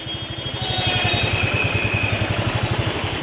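Motorcycle riding through Mumbai near the Gateway of India, a pulsing mid-range engine thrum that swells after a quieter start, close and steady with no speech.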